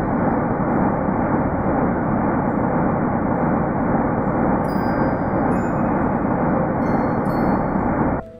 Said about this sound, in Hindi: ये रियल साउंड वेव्स की आवाज है। ये ब्रह्मांड के सबसे पुरानी आवाज है